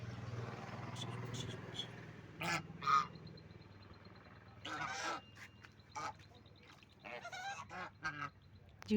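Geese honking in a pen with clean water, several loud, brief honks and squawks in scattered bursts over a low steady hum, with a few quieter calls between them.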